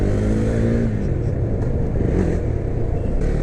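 A 2017 KTM Duke 390 motorcycle riding through traffic, its engine droning loud and steady with a rising rev at the start, close up under heavy wind noise.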